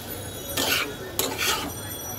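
Fried potatoes and soya chunks being stirred into spiced masala in a pan, two rough scraping strokes close by over steady background noise.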